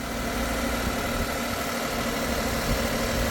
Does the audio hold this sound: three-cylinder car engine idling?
yes